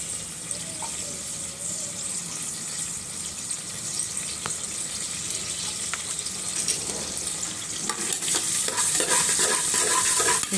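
Onions and green chillies frying for cabbage curry, a loud steady sizzle that thickens toward the end, with a few spoon clicks mixed in, close and without talk.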